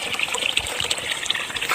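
Water gushes and trickles steadily over soil while watermelon plants are being irrigated, a close, continuous wet flow with no voices.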